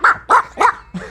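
A human voice imitates a dog barking, giving four short, loud, yappy barks in quick succession, each sharp and close.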